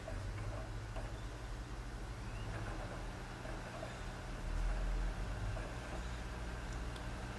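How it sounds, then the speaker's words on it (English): Xbox 360 console running with a game disc spinning in the drive and its cooling fan starting up, a steady low mechanical whir and hum with faint ticking, holding evenly throughout and swelling slightly midway. "So this noise that you're hearing with the game"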